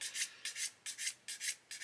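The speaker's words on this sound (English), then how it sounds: "very gently stroking the sanding stick across" A sanding stick is stroked gently back and forth across a plastic part of an Airfix 1/72 Hurricane Mk.1 model kit, giving about seven soft, even scratchy rubs in a steady rhythm, close and quiet.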